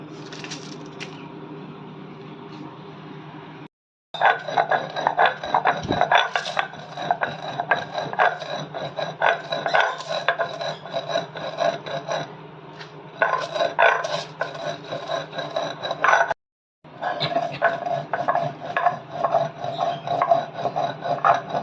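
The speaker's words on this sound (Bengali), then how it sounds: "এটা এবার আমরা গুঁড়ো করে নিচ্ছি।" Dry-roasted whole spices, dried chilli, bay leaf and panch phoron, being ground into powder: a loud, harsh, steady rasping whir running for long stretches, broken by two brief pauses.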